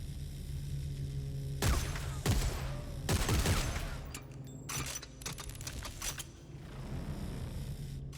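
Shotgun blasts from the video game Dead Space 3 boom in several loud bursts, with mechanical clatter and game noise continuing between shots.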